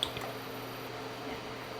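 Whipping cream pours into a pot for flan, a short, soft liquid squish and steady quiet trickle heard up close with no talk.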